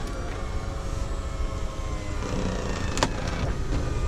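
An automatic power sunroof on a Toyota Tundra slides closed with a steady, close electric motor whir that runs throughout, ending in a brief clunk as it stops.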